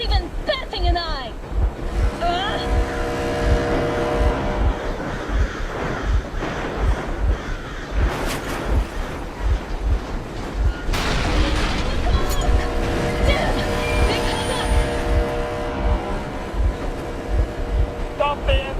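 In the game Metro Exodus, a boat engine runs with a steady, rhythmic low thumping under loud wind and water noise for the whole stretch.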